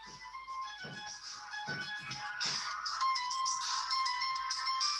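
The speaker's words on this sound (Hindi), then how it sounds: "अभी कॉलेज से फोन आ रहा है, बार बार फोन आ रहा है" A phone ringtone keeps ringing through the whole stretch, a steady repeating electronic melody at moderate level, with faint low bumps beneath it and no talking.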